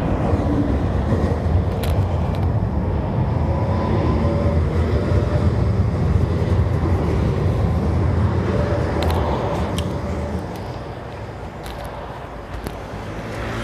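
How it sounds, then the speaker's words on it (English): A Leoliner tram in Leipzig rumbles past nearby in a street setting, a steady loud rolling drone with occasional clicks that eases off toward the end. "So this is a Leo liner here. This tram is built in Leipzig."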